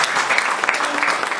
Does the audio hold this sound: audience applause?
yes